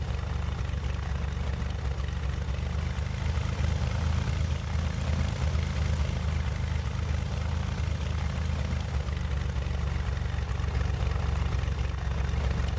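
Propeller plane engine droning steadily in the FsPassengers flight simulator game, a continuous low cockpit hum with no change in pitch and no voices.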